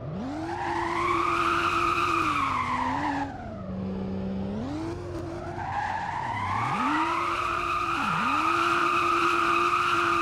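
A BMW M240i in the Roblox game Southwest Florida drifts with a tuned engine of around 800 to 1000 horsepower, giving a loud steady engine drone and long wavering tire squeals that dip and recover several times.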